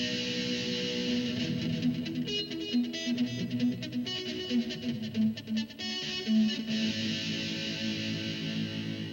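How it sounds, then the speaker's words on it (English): Electric guitar played through a chain of Boss compact pedals with pitch shifter, delay and stadium reverb, ringing sustained notes with long echoing trails and a wide washed-out tail, played alone without talk. "a recipe that uses 4 pedals to get a huge stadium delay sound"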